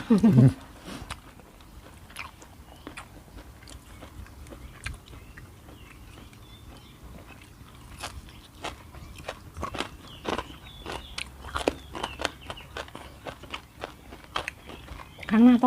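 Crunchy bites and chewing of raw vegetables eaten with a spicy Thai-Lao shrimp koi salad, close-up mouth sounds in an irregular rhythm, with occasional talk in the background.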